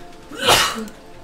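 A single short sneeze bursts out softly nearby against quiet background sound. It is one brief explosive breath that fades almost at once.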